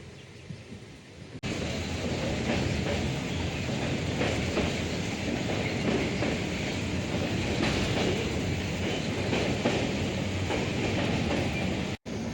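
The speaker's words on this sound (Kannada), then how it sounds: "ಶಾರ್ಪ್ 7 o'clockಗೆ ಕಂಕನಾಡಿ ಸ್ಟೇಷನಿಂದ ರೈಲು ಹೊರಟಿತ್ತು." A passenger train from Mangalore to Bangalore, heard from inside a carriage, rumbles loudly and continuously, with a rattling rhythm of wheels over track joints. A sharp thump follows near the end.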